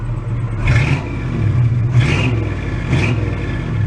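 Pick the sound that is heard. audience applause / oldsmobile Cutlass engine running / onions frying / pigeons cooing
oldsmobile Cutlass engine running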